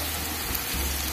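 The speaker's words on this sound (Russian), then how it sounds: "А здесь мы уже нагрели топленое масло и жарим" Onion sizzles in hot ghee in a pan, a brief, dense crackling hiss that stays steady throughout, with no talk.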